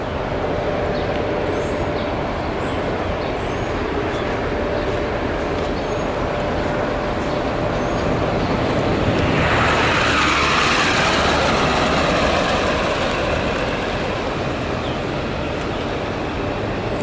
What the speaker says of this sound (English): Look, he just drove by.